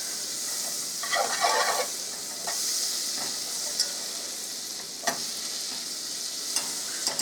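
Butter melting in a pan to start a roux, a steady soft sizzle with brief bursts of louder bubbling and a few light scrapes and clicks of a utensil.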